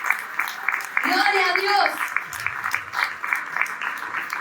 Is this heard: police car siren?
no